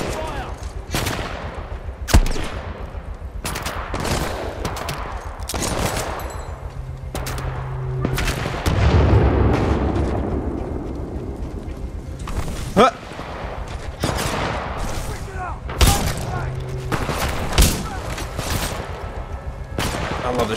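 Repeated shotgun blasts boom in close-quarters combat in Titanfall 2, sharp loud shots spaced a second or two apart over a long stretch with mechanical reload clicks and a voice talking between them.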